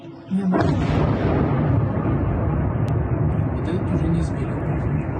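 A factory struck in a drone attack blows up with a sudden loud blast that settles into a sustained, heavy roar of burning and debris, continuing strongly for several seconds.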